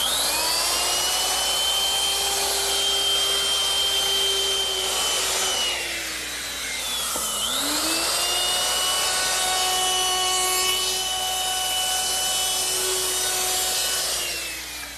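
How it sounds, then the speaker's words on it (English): A router with a 1/4-inch round-over bit rounds wood edges on Adirondack chair pieces, a loud, steady high whine that dips briefly mid-pass as the bit bites, then recovers and runs on. "I want to round over all the edges using my router with a 1/4-inch rounding over bit"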